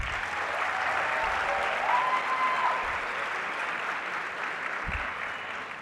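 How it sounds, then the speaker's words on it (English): Audience at a Key Club International Convention closing session applauds in a dense, steady wash of clapping that holds throughout, moderately loud and fading slightly toward the end. "Let's give her another round of applause."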